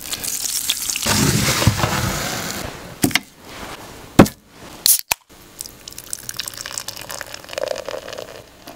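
Chicken legs fry in a pan with broadband sizzling, strongest early on, then interrupted by a few sharp clattering knocks and quieter spitting toward the end.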